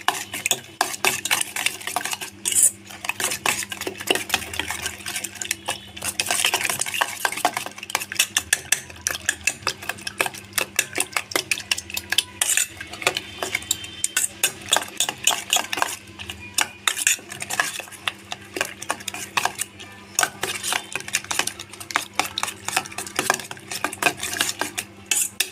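A utensil scrapes and clinks rapidly against a pan as chili powder is stirred into egg gravy, a busy close metallic rhythm with a faint sizzle beneath and no talk.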